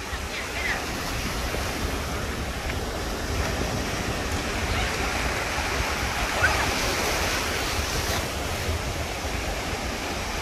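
Surf washes onto a Gulf of Mexico beach at St. Petersburg in a steady, continuous roar, mixed with wind buffeting the microphone.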